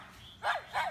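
Two sharp, high yapping barks from a small dog close by, in quick succession.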